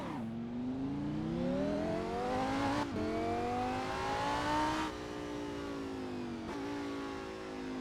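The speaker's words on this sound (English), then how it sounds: "We're driving the Lamborghini Huracan GT3 car." A Lamborghini Huracan GT3 race car at speed on the Seretse Khama Circuit, its engine revving hard and climbing through the gears with three quick upshifts, loud and close throughout with no voices.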